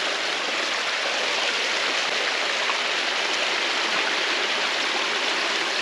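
Pure stream water flows steadily through an arid landscape, a constant, dense rushing hiss heard close and alone with no talking.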